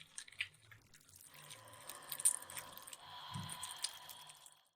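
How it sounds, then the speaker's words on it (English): Strange munching and chewing sound inside a stalled elevator in the video game Black Souls 2, a low wet crunching that plays steadily in the background at moderate level for several seconds. "A strange munching noise will play in the background while the screen darkens."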